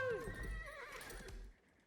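A horse neighs loudly at the start in the Age of Empires 4 real-time strategy game, a long descending whinny followed by snorts and hoof clatter, with game sounds continuing and a commentator's voice faintly under it.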